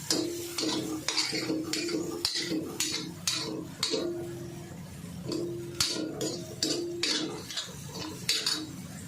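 Chilli and garlic being sautéed in a pan for a spicy methi-potato dish, with repeated metallic scrapes and clinks of a spatula against the pan over a low background sizzle, steady and close.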